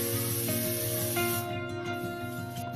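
A pressure cooker vents steam while cooking raw mangoes in a glass of water, a continuous loud hissing whistle that runs unbroken for nearly three seconds and eases slightly toward the end.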